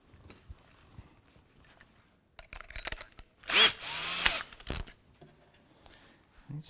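A power drill drives small screws while a modern kitchen island is assembled, sounding as a few short whirring bursts, the loudest lasting about a second, separated by quiet handling noises.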